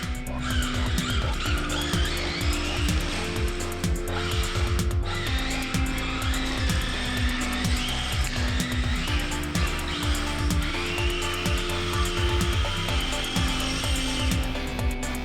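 A Tamiya TT-02 RC drift car fitted with a Yeah Racing RW drift kit drifts and spins out, a continuous, close electric motor whine that rises and falls with throttle, layered with tire scrubbing and skidding.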